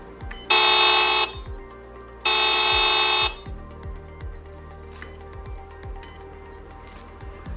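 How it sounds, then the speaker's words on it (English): A GI Joe Classified HUMVEE RC toy vehicle sounds its electronic horn in two loud, steady honks of about a second each, followed by quieter whirring and clicking from the toy. "Some of them will make it honk."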